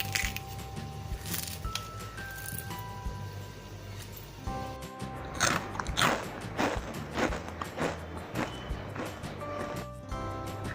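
Crispy, freshly fried homemade chakli snack is bitten and crunched several times in a row, sharp brittle cracks over soft background music.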